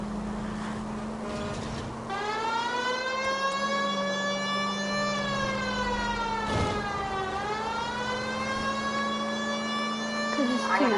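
A police car siren in the video game L.A. Noire wails loud and close, rising and falling in long sweeping cycles over a low engine drone for the whole stretch.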